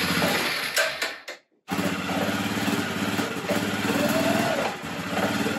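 A Suzuki Eiger Quadrunner 400 ATV engine, sixteen years old and just tuned up, sputters, cuts out briefly, then catches and runs with a steady, close, buzzing idle.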